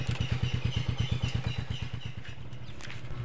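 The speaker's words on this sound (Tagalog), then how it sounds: "Ah, lagi motor nisong dari o." Motorcycle near a tilapia fishing spot in Agusan del Sur, Philippines, with a close, rhythmic engine thumping at steady pulses that fades slightly as it passes by.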